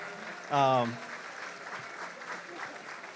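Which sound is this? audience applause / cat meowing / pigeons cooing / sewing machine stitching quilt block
audience applause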